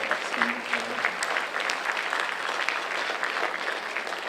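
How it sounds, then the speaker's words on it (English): A school assembly audience claps for a high school orchestra at a Flag Day event, a dense, even wash of applause from a large crowd that holds steady and fairly loud through the whole stretch. "So a nice round of applause for the Middleborough High School Orchestra."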